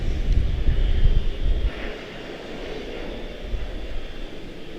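An Etihad airliner's jet engines at Charlotte-Douglas International Airport give a deep rumbling roar with gusty low buffeting that eases after the first couple of seconds into a steadier, softer whine.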